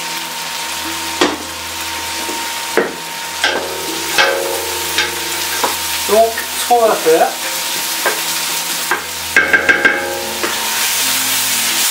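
Red cabbage braising in a pan sizzles steadily while a utensil stirs and scrapes through it in repeated strokes, with a brief spoken line in French at the start.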